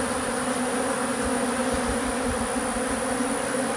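Honey bees robbing a queenless beehive, a dense, steady buzzing swarm of many wings that fills the air up close and continues without a break.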